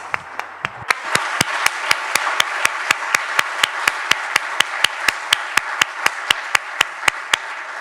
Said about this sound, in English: Extended thanks and a warm round of applause, please.